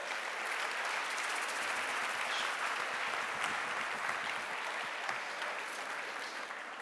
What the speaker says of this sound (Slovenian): Dajte si zaploskati.